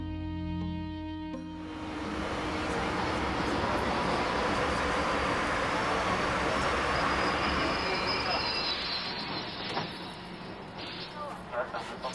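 A Beijing metro train rumbling steadily along the track, a broad sustained roar that swells after a brief start and persists to the end.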